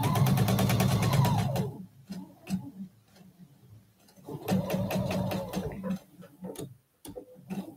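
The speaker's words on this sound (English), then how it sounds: "I'm only going to concentrate in sewing to my seam." A sewing machine stitching a quilt block seam runs in two bursts of rapid, even mechanical ticking, close and clear, separated by a quiet pause with light handling noises.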